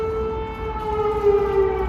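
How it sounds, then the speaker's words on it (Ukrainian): A loud, sustained wailing air raid siren in Kyiv during wartime, holding a steady tone, with no talking. "Тут ще й так гучно оре сирена."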